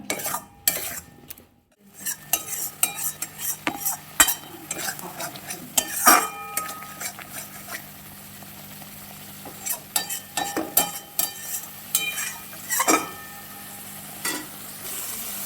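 Tomato puree stirred into a pan of paneer and vegetable masala, with soft sizzling under irregular scraping and clinking of a spatula against the pan.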